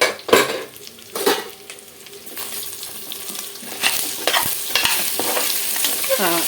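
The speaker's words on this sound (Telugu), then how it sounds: "ఈ కర్రీ కూడా ఒకసారి తిప్పుకుందాము" Curry in a pot being stirred during home cooking, with scraping strokes and a steady sizzle of frying underneath, close and moderately loud, no talking.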